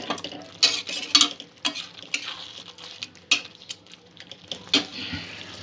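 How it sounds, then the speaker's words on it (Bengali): Chicken bhorta cooking in a pan, heard as a spoon stirring and scraping with metallic clinks in an irregular rhythm over a soft bubbling sizzle, close and moderately loud. "দু এক মিনিট একটু ফুটতে দেব।"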